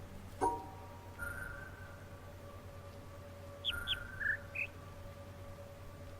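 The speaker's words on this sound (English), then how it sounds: "you're listening to bird tweets" A few thin, high bird tweets in the video game The Witness, brief chirps spaced apart over a quiet electronic hum, soft and clean.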